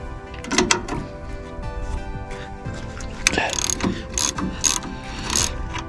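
A ratchet wrench loosens a bolt on an old John Deere 3020 tractor during a relay switch replacement, clicking up close in uneven bursts of several quick strokes with short pauses between them.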